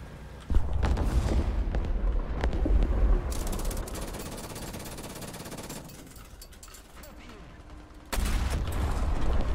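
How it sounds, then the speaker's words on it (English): Heavy cannon blasts from a Maus super-heavy tank firing armor-piercing shells in a battlefield video game, loud booming onsets at the start and again near the end, with rumbling machine-gun and battle noise in between and a voice talking over it. "Direct hit with the armor piercing!"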